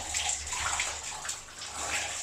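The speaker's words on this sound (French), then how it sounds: "Je me douche." A shower runs close by in a hard-surfaced bathroom, with a steady dense hiss of water spraying and splashing. No voices are heard.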